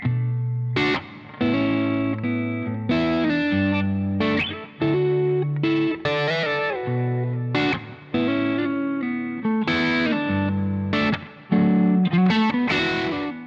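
Electric guitar played through a fuzz overdrive pedal, heard alone as loud, thick distorted chords and riffs in short phrases with brief gaps between them, sustaining strongly and steadily.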